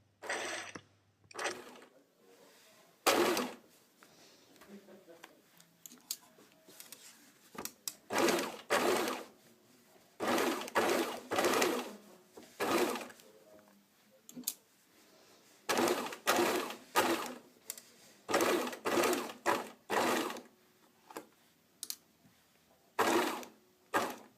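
Sewing machine stitching princess seams on a garment, running in repeated short bursts separated by quiet pauses, each burst a close, steady mechanical whir.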